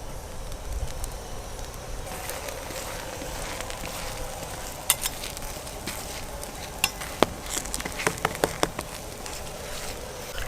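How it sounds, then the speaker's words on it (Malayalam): Dosa frying in ghee on a hot village griddle, a steady close crackling sizzle with scattered sharp pops and ticks toward the end, no voices. "നെയ്യ് ഒഴിച്ച് നല്ല മുരിമുരായിട്ട് കിട്ടും"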